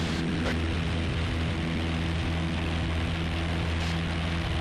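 A Piper Warrior light aircraft's piston engine drones loud and steady from inside the cabin as the plane climbs out on runway heading, with a constant propeller hum and no pauses.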